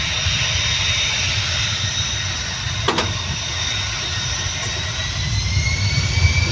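A jet aircraft takes off at an airport with a loud, steady, broadband engine roar, a constant rushing drone that swells slightly toward the end.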